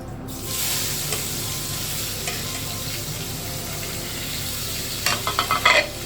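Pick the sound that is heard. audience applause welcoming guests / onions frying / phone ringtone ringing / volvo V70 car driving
onions frying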